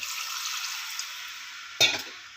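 Water poured into a pan of radish masala for sambar makes a soft steady sizzle, then a brief sharp splash and burst of frying noise near the end, close and fairly quiet.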